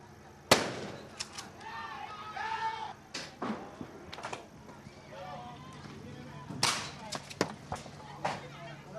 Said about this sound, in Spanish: uno de los cascos azules volvió a disparar directamente contra la turba